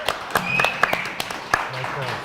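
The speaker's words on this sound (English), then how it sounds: "Let's get another round of applause for our service club presidents." Audience applause for service club presidents at a live Halloween show, a patter of claps with talk and voices over it, moderately loud and close.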